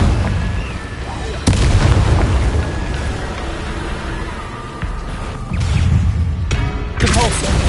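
Booming blasting-spell explosions in a wizarding video game, several heavy, loud bursts with rumbling tails and crackling debris, coming in quick succession amid game effects.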